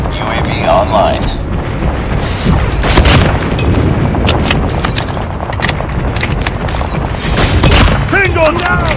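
Airstrike explosions in the Call of Duty Mobile video game: heavy booms and rumbling blasts over steady gunfire, with a louder cluster of impacts near the middle and again toward the end, amid continuous battle noise.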